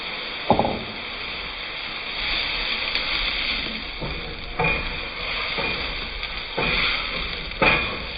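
Shrimp sizzle in butter in a hot pan, a steady close hiss broken by several scraping stirs spread across the stretch, with no talk.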